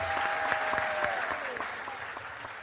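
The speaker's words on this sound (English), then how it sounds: "Can you please give yourselves a big, big round of applause?" An audience at the close of a live panel dialogue gives a round of applause, steady clapping from a crowd with a few sharper claps standing out and a brief tonal whistle early on.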